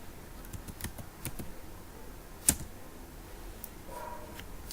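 Sparse keystrokes tap on a computer keyboard while someone types code for an Android app, with quiet, irregular clicks and one sharper, louder key strike near the middle.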